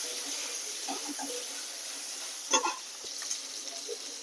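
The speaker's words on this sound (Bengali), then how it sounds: "ভালো করে লাল লাল করে আলুটাকে ভাজবো" Potato pieces frying in a pan for a Bengali home-style tengra fish curry: a steady, faint hiss of oil with a few brief scraping bursts and clinks near the middle.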